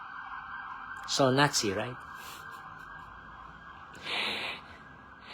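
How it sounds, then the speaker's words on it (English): An emergency vehicle siren wails steadily in the background as someone speaks over it, with a brief louder swell near the end. "there goes the siren, the familiar siren"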